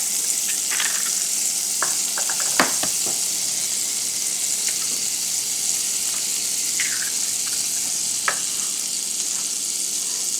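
Two eggs sizzle steadily in butter in a hot frying pan, a constant bright hiss broken by a few small pops and crackles.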